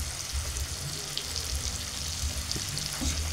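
Tomato paste hitting a hot pan in a Bengali fish curry, giving a steady dense sizzle that stays loud and close throughout without voices.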